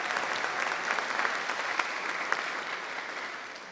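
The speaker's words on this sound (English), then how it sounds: "would you please join me in a round of applause for the King Mertz recipients." Audience applause for award recipients at a university graduate school awards ceremony, a steady, dense wash of clapping from a seated crowd, moderately quiet and sustained without any talking.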